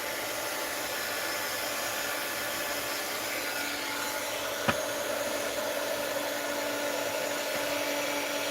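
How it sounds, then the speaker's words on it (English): A heat gun blows steadily while remelting wax, a constant airy whir with a faint tonal hum and a single sharp click partway through. "I'm just taking my heat gun and remelting some of this wax"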